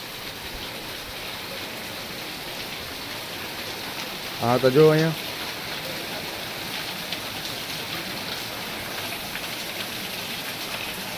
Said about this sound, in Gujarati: બહુ વરસાદ હારો પડે છે અત્યારે.